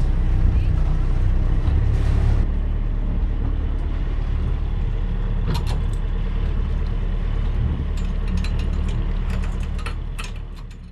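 A steady boat engine rumbles with water rushing and wind noise as the boat leaves port at Ios, Greece, loud and continuous, with brief clatters now and then.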